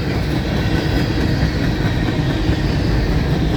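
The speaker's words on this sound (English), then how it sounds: "I thought I heard that train coming off the Waycross line already." A CSX freight train near Folkston makes a continuous loud rumble with steady wheel and rail clatter, close and unbroken throughout, with no voices.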